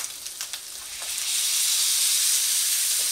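Beef broth poured into a hot pan for shepherd's pie, a few soft clatters giving way to a loud, steady hiss that swells and holds close up with no talking.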